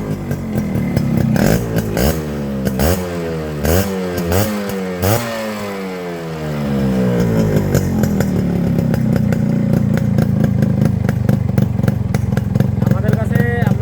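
A Yamaha RX 100 motorcycle in fresh condition runs close by: its two-stroke engine is revved in rising and falling bursts, then settles into a steady, loud, buzzy drone.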